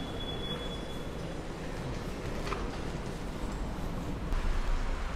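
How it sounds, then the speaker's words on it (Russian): Trains at Moskovsky railway station in Saint Petersburg give a steady, low rumble of rolling stock with faint station ambience, continuous and moderately loud throughout. "вот он, московский вокзал Санкт-Петербурга"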